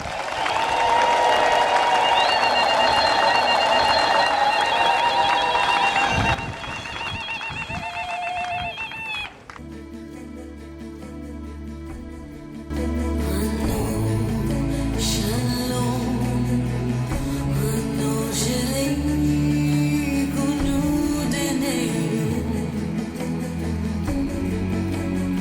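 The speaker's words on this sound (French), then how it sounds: "je voudrais qu'on manifeste notre admiration par les applaudissements" Sustained, loud applause from mourners at the funeral ceremony of Professor Gabriel Kalaba Mutabusha, mixed with tonal sounds and followed by music-like tones and a full crowd noise.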